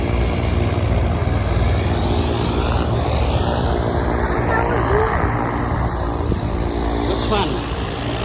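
An airplane approaching to land at Renton, its engine drone steady and fairly loud overhead under constant broadband rumble, while people talk nearby.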